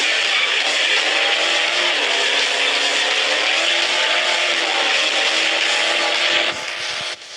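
A car in a driving simulator game holds a steady, bright engine drone with some tire noise, loud and continuous, then drops off abruptly near the end.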